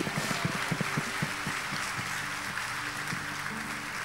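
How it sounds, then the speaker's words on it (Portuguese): A church congregation applauds, quick hand claps ringing out near the start and thinning over a few seconds, set against a steady low hum and a rushing background wash. "Dê um forte aplauso ao Senhor"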